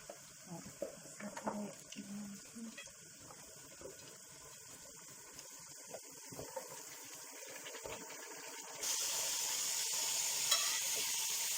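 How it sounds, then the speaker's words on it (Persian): Meat frying for Tajik plov crackles faintly in hot oil, with quiet sizzling and stirring clatter before a sudden louder, steady hiss takes over near the end, and someone speaks briefly. "گوشت ما قریب سرخ شد"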